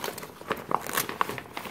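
Zipper on an REI Flash 22 daypack being pulled, giving a few short close crinkly rasps and scratchy bursts, fairly quiet with no talking.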